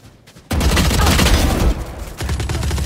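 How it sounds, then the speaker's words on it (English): A Killjoy swarm grenade bursting in the game Valorant: a sudden loud eruption of rapid crackling pops that holds steady for over a second, drops briefly, then resumes in a denser rattling burst. "Swarm grenade out."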